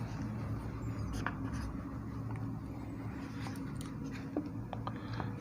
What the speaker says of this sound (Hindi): तो इस पॉइंट को भी इधर लिखते चलें।